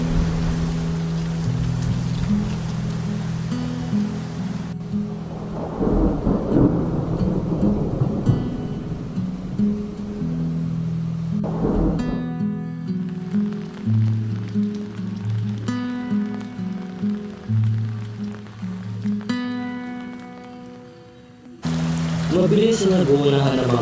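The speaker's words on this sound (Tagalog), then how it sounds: "biglang bumuhos ang ulan" Rain pours down hard in a sudden downpour, with rumbling thunder rolling through, mixed with music and voices talking over much of the scene.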